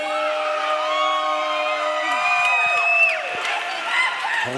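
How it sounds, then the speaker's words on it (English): A hometown crowd at a New Line Cagefighting MMA event cheers loudly in a sustained roar, with high whoops and whistles rising and falling throughout. "hometown crowd showing their support for Justin Thompson."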